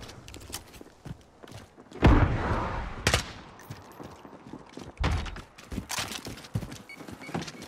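Scattered gunshots and bursts of automatic fire in Call of Duty: Modern Warfare, sharp cracks at irregular intervals with heavier impacts and thuds mixed into a busy battlefield backdrop.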